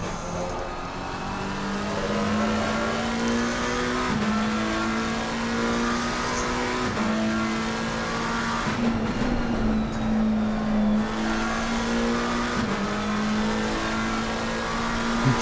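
Onboard McLaren race car engine in a racing video game at Spa, a loud sustained high-pitched drone rising through the gears with brief dips at each shift, under occasional commentary.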